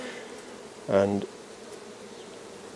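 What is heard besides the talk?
honey bees buzzing in a hive box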